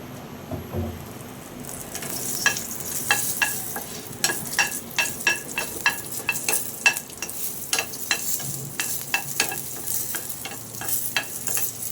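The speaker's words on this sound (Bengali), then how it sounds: "মরিচটা তো আমার ভাজা হয়ে গিয়েছে" Chillies fry in a little oil in a pan, a steady close sizzle broken by repeated sharp crackles and pops as they are stirred, with no talking.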